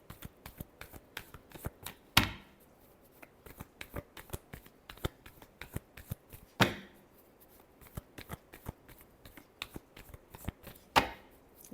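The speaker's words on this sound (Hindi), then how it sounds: "Last shuffle." Deck of cards being shuffled by hand, quiet rapid riffling clicks in repeated bursts, with a sharper snap at the end of each of three shuffles.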